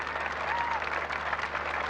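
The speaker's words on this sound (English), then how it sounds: "They're spontaneously standing and applauding as they cross in front of the Royal Defence Force Guard." Crowd on their feet applauding a royal couple at an outdoor Australia Day ceremony in 1986, a steady dense wash of clapping from many hands held at an even level throughout with no talk.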